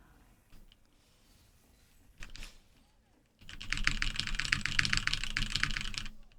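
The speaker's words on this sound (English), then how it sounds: "Sometimes when I'm tapping my keys, it does sound cool." Rapid clattering keystrokes on a mechanical computer keyboard, a few scattered taps followed by a dense, loud burst of fast typing close to the microphone.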